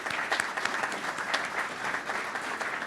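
Audience applause at a police department annual awards ceremony, a steady, dense wash of many hands clapping throughout, fairly close and even in level.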